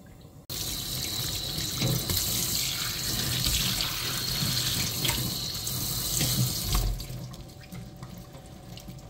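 Tap water runs steadily into a cooking pot, a continuous splashing gush that starts abruptly and tapers off near the end, as water is added for kelp broth for webfoot octopus shabu-shabu.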